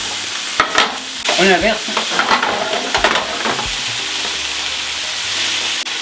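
Vegetables for a hearty chili sweat in a pot, a loud close sizzle with clattering stirs and spoon scrapes early on, settling into a steady hiss.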